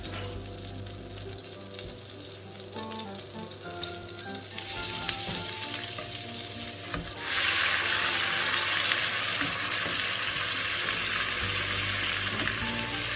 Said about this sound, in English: So in a pan, I'm going to first add about 1 tablespoon of oil. And I'm also adding 1 tablespoon of butter as well.